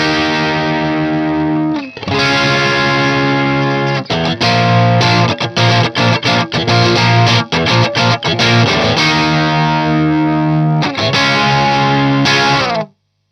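An electric guitar with distortion and chorus effects strums the chorus chords of a song up to speed, with sustained ringing chords broken by choppy rhythmic stabs and brief pauses.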